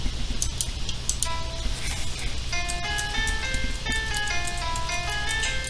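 An original pitch class set from post-tonal music theory, played as a short sequence of distinct, evenly spaced musical notes that enter after a moment, heard clearly over a steady hiss of background noise.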